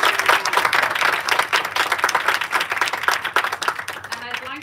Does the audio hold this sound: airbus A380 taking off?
no